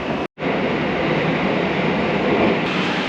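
A Tokyo Metro Tozai Line subway train arriving at Kayabacho station, a loud, steady rumble filling the underground platform after a brief dropout at the start, with no voices.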